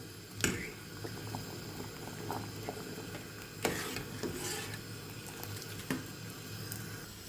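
Cold tap water runs steadily over a hand burned on a hot ladle handle in a kitchen, a soft continuous hiss broken by a few sharp splashes.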